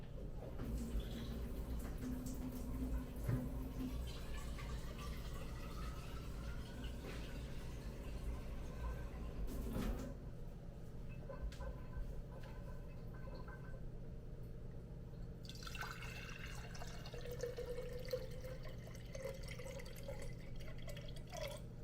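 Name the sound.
water pouring into Hario V60 coffee dripper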